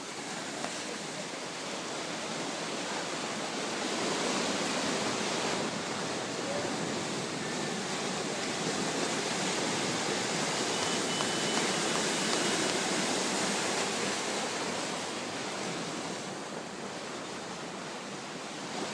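Small sea waves wash continuously at a Mediterranean surf spot near Cassis, a broad steady roar of surf with faint wind rumble and no voices.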